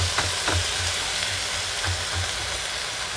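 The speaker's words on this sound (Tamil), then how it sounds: "தக்காளி கொஞ்சம் நேரம் நல்லா வதங்கட்டும்" Tomatoes sautéing in a pan for a drumstick and garlic kuzhambu give a steady, dense sizzle throughout, with a few soft low thumps from stirring near the start.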